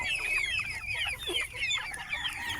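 Heritage chickens cluck steadily at close range, several birds overlapping in a busy, continuous chorus of short, bright calls with no voices.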